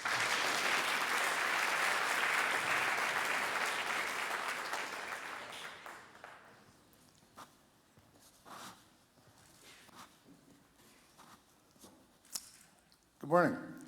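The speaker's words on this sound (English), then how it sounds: "Let's give a round of applause for Gord." An audience at a TEDx talk claps for a speaker, a loud, dense burst of applause that fades out over several seconds, followed by scattered footsteps and small handling noises.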